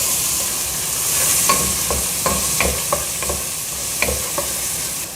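Chopped onion and garlic sizzle steadily in a hot pan while being sautéed, with a spoon scraping and clicking in irregular strokes over the continuous frying hiss.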